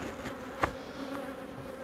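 Honeybees buzzing at a beehive during beekeeping work: a close, steady hum of many bees that carries on without a break, with one louder bee passing briefly and no talking.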